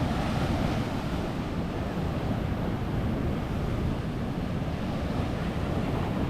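Ocean surf breaks continuously on the beach at Cape Point, Hatteras, where two currents meet: a dense, roaring wash of waves with wind buffeting the microphone throughout, and no voices.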